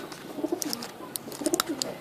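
A pigeon being treated for a throat ailment coos close by in short, repeated soft throaty calls, with faint background noise and no clear speech.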